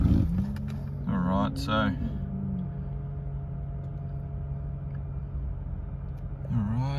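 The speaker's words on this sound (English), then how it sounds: "push button starts, obviously just foot on the brake and start the vehicle" A 2017 Lexus IS200t with push-button start turns over and settles into a low, steady idle inside the cabin, while someone talks briefly at the start.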